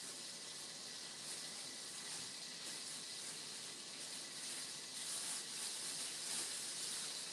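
Pre-seasoned shrimp cooking in a hot pan, a continuous broad hissing sizzle that holds steady and fairly close, swelling slightly toward the end, with no voices over it.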